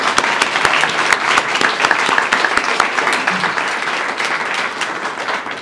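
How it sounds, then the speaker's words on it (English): Dense applause at a rally gathering, many hands clapping loudly and continuously, with a few sharper individual claps standing out near the start before the sound eases slightly toward the end. "that also deserves some applause"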